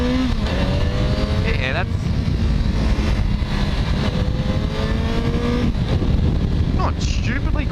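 A 2013 Yamaha FZ6R motorcycle pulls away from a stop, its engine note rising through several gear changes, loud and close, with a voice speaking briefly over it.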